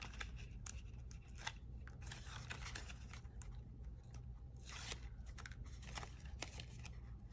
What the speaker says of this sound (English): So we're gonna go ahead and pull our foam tape off.